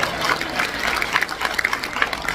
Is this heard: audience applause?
yes